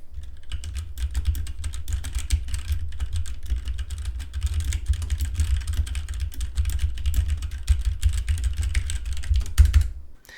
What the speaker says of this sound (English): We'll bang around on the keyboard and give you an idea what this one sounds like